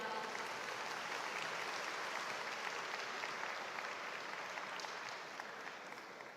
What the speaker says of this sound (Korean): SNU 윈드 앙상블 단원분들께 다시 한번 큰 박수 부탁드립니다.